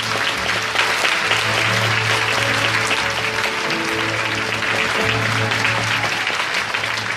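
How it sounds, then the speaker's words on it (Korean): Loud, sustained applause from a large crowd at a welfare rally as a speaker is invited on stage, steady clapping throughout with a faint musical tone underneath. "여러분의 힘찬 박수로 무대로 초청하겠습니다"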